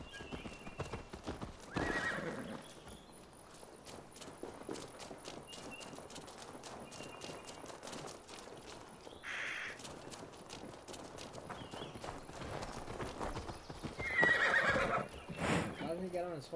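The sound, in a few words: horse whinnying and hooves clip-clopping in video game Assassin's Creed Valhalla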